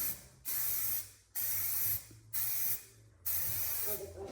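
Four bursts of loud hissing spray coating a 1979 GMC dually truck bed, each lasting about a second, separated by short pauses, close and steady.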